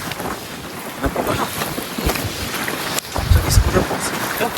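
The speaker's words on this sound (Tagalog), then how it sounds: "medyo malakas ang hangin" Strong wind gusting across a seashore, a steady broadband rush that swells louder near the end, with faint voices mixed in.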